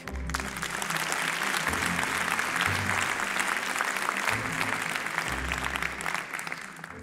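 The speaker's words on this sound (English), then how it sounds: "Can I have a round of applause for someone who's famous for her research on complex health innovations, Professor Trisha Greenhalgh." Audience applause at an honorary doctorate ceremony for Professor Trisha Greenhalgh, a loud, continuous roar of many hands clapping, steady throughout with a low hum underneath.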